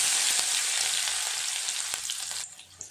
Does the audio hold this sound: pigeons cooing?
no